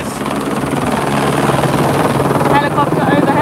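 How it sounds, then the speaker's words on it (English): Helicopter flying overhead during an in-port sailing race in Aarhus, heard from a chase boat: a loud, steady rotor thrum that fills the whole stretch, with wind noise. "Helicopter overhead, sorry about that"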